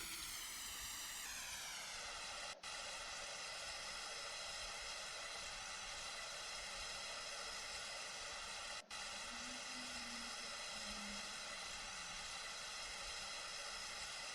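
Airplane engine during a forced landing, a steady droning whine with strong harmonic tones held for the whole stretch, fairly loud and close, with two brief dropouts and no voices.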